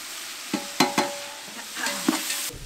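Cashews, coriander powder and coconut powder fry in a pan for a chicken dish, with a soft sizzle under several sharp scrapes and clinks of a stirring spoon, heard up close with no talking.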